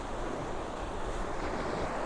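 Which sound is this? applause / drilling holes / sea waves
sea waves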